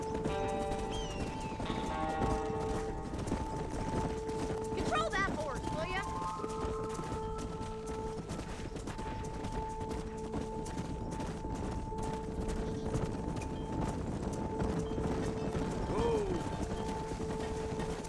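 Steady clip-clop of horse hooves moving at a quick pace in the video game Red Dead Redemption, with occasional whinnies and a voice talking over the rhythm.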